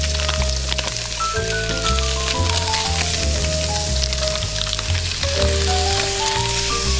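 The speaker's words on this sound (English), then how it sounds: "We're going to get our butter in there." Butter sizzles in a hot pan before pan-searing salmon, a steady hiss that runs without a break under tonal background music.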